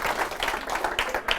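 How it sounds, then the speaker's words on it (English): A brief round of applause from the audience at an engineering diversity talk, a short patter of scattered claps in a room, fairly soft and uneven. "Give yourselves a round of applause."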